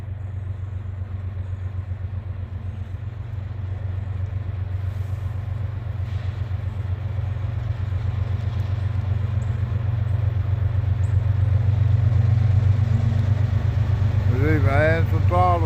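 A freight train locomotive working under throttle, a heavy steady diesel rumble with a strong low drone that grows louder through the clip, heard outdoors with faint voices near the end.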